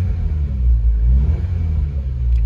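A 1997 Honda Civic EK4 hatchback with a B16A2 engine and five-speed manual rumbles close by, rising into a steady rev with a deep, continuous exhaust drone, loud and with no voices.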